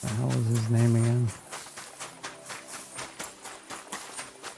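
Horse hooves clip-clop in the video game Kingdom Come: Deliverance 2, in the Kuttenberg region. The hoofbeats come in a steady, moderately loud rhythm after a brief burst of tonal sound at the start.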